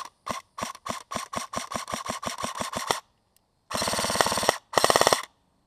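Airsoft gun firing from a gritty Elite Force mid-cap magazine: about a dozen sharp single shots at an even pace, then a pause, followed by two loud rapid bursts, close and clear.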